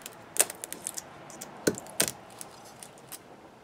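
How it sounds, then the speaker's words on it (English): Hand snippers cut away support material from a 3D printed plastic part, giving a handful of sharp, separate clicks and snaps spaced irregularly at close range in a quiet room. "I'm going to snip the outside first, then I'll snip the center part"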